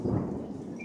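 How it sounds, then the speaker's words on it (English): Loud, close rumble of thunder during a severe thunderstorm with heavy rain, wind and constant lightning, a heavy low roar that fades slightly over its brief span with rain hiss beneath. "Yo, that thunder though. That was intense. That was super loud."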